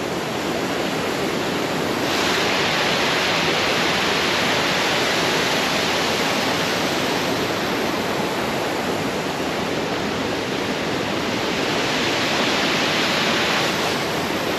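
A waterfall in Wells Gray, falling over old volcanic rock layers above the Clearwater River, roars as a loud, constant broad rush of water that stays steady throughout with no voices.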